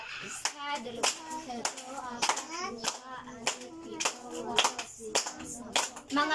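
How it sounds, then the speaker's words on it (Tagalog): Children clapping in unison in a classroom, a run of about ten sharp, evenly spaced claps with faint voices between them. "Kaya bigyan natin ng 10 palakpak ang unang pangkat"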